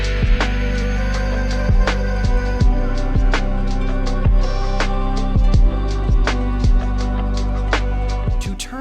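Finished, fully produced version of a new song, loud and dense with a heavy low end, regular driving kick hits and bright percussion over sustained chords.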